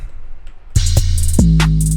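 Pluggnb beat made in FL Studio, a few hard drum hits landing in the first second before a deep booming 808 bass swells and sustains, loud and close with crisp hi-hat ticks on top.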